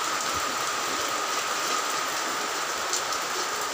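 Steady rain falling on a rainy day near a market, a continuous even hiss that stays constant throughout with no voices.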